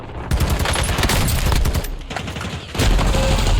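Close, loud automatic gunfire from a Call of Duty match on Ashika Island rattles in rapid sustained bursts, with a short lull before a heavy renewed volley at the end.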